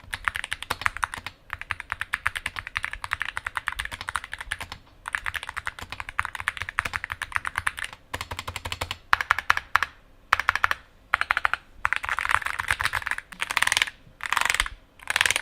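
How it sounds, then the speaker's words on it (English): Mechanical keyboard typing on an AKKO MOD 007 V3 HE with stock FR4 plate, in fast, steady bursts of crisp clicky keystrokes, close and clear, with brief pauses between runs and no voices. "This is how the keyboard sounds with stock configuration FR4 plate."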